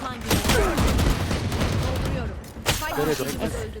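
Rapid gunfire bursts in a ranked Valorant match, a dense fusillade of shots running almost continuously at close range, dipping briefly before resuming, with players calling out over the shooting.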